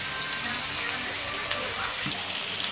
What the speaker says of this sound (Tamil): வெங்காயத்தை சேர்த்துக்கலாம் கொஞ்ச நேரம் ஃப்ரை ஆகட்டும்